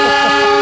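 The Baturraden Ekspres train arrives at Kroya station with a loud, sustained horn blast that holds steady, close and dominant, over a low rumble of rolling stock.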